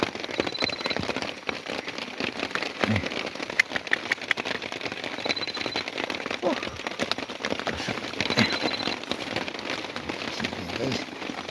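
Steady rain patters densely on a surface, a constant hiss with scattered louder drops and a faint engine-like rumble underneath.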